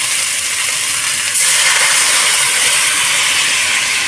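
Water poured into a pan of hot spice mix for a pointed gourd dish sets off a loud hissing burst of steam partway through, rising sharply and holding as a strong, even sizzle.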